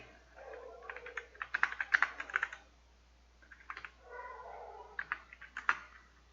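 Keys clatter on a computer keyboard during a database programming lesson, close and crisp, in two quick bursts of typing separated by a short pause.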